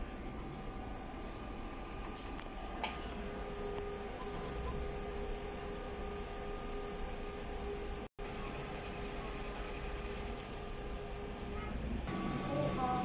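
A sublimation printer runs a head clean cycle, giving a steady, continuous mechanical hum and whir with faint clicks, with one brief dropout partway through.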